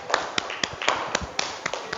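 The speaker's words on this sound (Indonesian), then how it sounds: "Tepuk tangan." A classroom audience claps for a group presentation, sharp hand claps falling in a quick, steady rhythm of about four per second, close and moderately loud.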